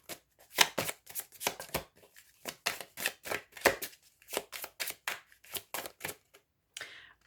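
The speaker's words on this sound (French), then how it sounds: "Alors, on va prendre une carte pour chacun des signes." Tarot cards drawn and slapped from a deck, a steady run of about twenty crisp, separate card snaps close by, with no talking, ending in a short rustle.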